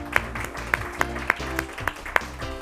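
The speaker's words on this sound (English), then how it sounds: "And we have a round of applause for everybody here today." Audience applause at an elementary school science bowl match between Hyattsville and Yorktown: a thin, sparse patter of distinct claps spaced roughly evenly, moderately loud, over a low steady hum and faint room murmur.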